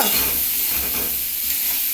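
Bitter gourd frying in a pan makes a close, dense sizzle with a steady hiss and light stirring throughout.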